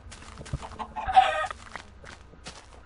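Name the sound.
chickens clucking in the video game Minecraft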